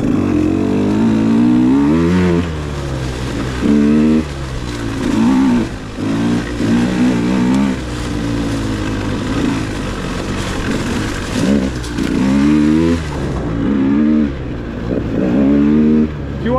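A motorbike engine revs hard in third gear while riding a winter trail, its note climbing and falling in repeated loud surges that run continuously with no pauses.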